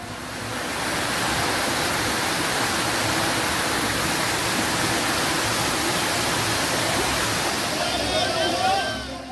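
Flood water rushes through city streets, a loud, steady broadband roar that swells in after a second and holds, with faint higher sounds near the end.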